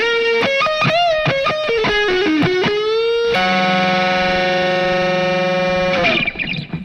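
A distorted electric guitar lick from a live performance at El Mocambo: quick bent notes, then one long sustained feedback-heavy note held for about three seconds, loud and close with no talk.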